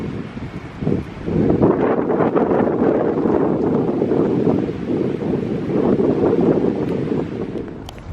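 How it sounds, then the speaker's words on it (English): Strong gusts of wind buffet the microphone in a continuous low roar, rising after the first second and staying loud throughout. "It's always windy."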